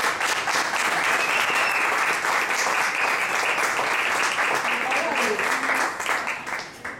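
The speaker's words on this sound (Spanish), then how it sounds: "gran aplauso, por favor" A concert audience applauds to welcome a Latin singer and his band; sustained, full clapping from many hands, steady and loud before fading at the close.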